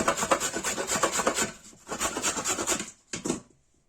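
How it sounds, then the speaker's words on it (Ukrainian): A knife cuts parsley root into thin strips on a board in a home kitchen. Quick rhythmic rasping strokes come in two close, fairly quiet runs, followed by a short final burst before silence. "Корінь петрушки просто буду кришити. Перерізала такими тоненькими полосочками і покришу, покришу все."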